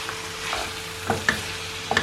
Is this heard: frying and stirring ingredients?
yes